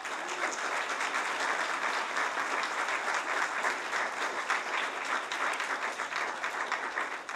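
Sustained applause from an audience at a Board of Education candidates forum, a steady dense clapping that holds evenly for the whole stretch with no voices standing out.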